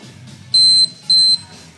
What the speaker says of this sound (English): And there's his beep.